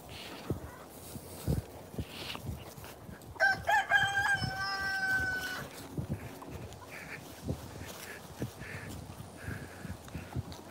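A rooster crows loudly near the middle of the clip over an ongoing bed of chicken clucking and scattered farmyard knocks and rustles, with no talk.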